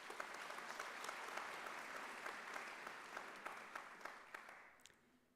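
Audience applause at a university founders' lecture and gala dinner, steady, dense clapping from a sizable crowd heard fairly faint, tapering off at the end.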